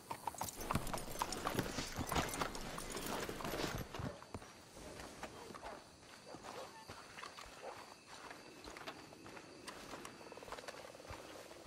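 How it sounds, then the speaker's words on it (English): Horse hooves clip-clop in a steady walking rhythm in the video game Red Dead Redemption 2, loud and close for the first few seconds, then softer and more distant over a low background rumble. "Let's hitch the horses up ahead."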